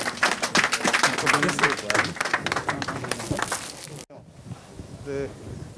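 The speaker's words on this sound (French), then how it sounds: "Sous vos applaudissements, s'il vous plaît." An audience applauds at a school supplies handover for pupils in Nioro du Rip, a dense burst of clapping that fades into quiet room noise with a voice starting to speak.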